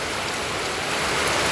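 Very heavy rain pours down continuously over a poultry yard, a dense, unbroken hiss with no letup.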